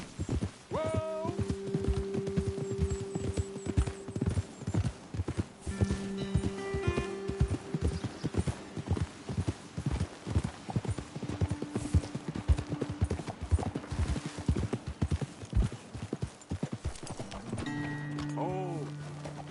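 Horses in the video game Red Dead Redemption 2 clip-clop in a quick, steady rhythm of close hoofbeats, with brief tonal sounds and faint speech woven in.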